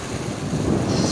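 Steady breeze blowing across the microphone in an Alaskan black spruce forest during a wildfire, a continuous broadband rush that swells slightly louder toward the end.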